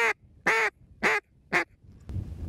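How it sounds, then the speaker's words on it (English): A duck call blown as a greeting call gives four loud, nasal quacks in an even rhythm, each a little shorter than the one before, followed by a brief thump and low noise. "with each quack a little shorter and quieter than the last. Here's what it sounds like."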